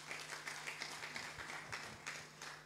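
A congregation claps in a church during a Sunday service, a fairly faint, steady rhythmic patter of many hands beating in time, carrying on without a break.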